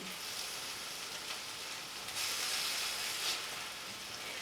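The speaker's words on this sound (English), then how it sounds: "I'm gonna take my shrimp and put it into my skillet" Shrimp spread in an even layer in an oiled skillet on a woodstove sizzle with a steady, bright hiss that swells slightly midway, close and continuous with no talk.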